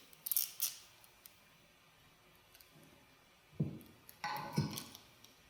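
Scissors snip through ribbon in a few sharp, close crunching cuts, with a pair of bright clicks early on and heavier snips near the end, spaced apart by quiet handling.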